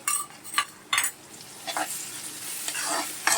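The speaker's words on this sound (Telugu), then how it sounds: "ఇవ్వండి అల్లం వెల్లుల్లి పేస్ట్ కూడా వేస్తున్నాను. వేయించుకోవాలండి, పచ్చివాసన రాకుండా ఉంటుంది." Ginger garlic paste and green chilies frying in oil for an Andhra-style goat head curry, a soft sizzle with several distinct spoon scrapes and clinks against the pan, close and uneven, no speech.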